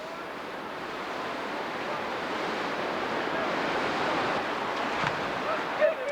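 Whitewater at Swimmers Rapid on the Youghiogheny River rushes in a steady, loud broadband roar, continuous and unbroken, with faint wind-like hiss on top.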